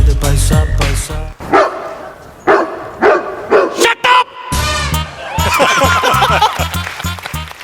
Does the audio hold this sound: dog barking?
yes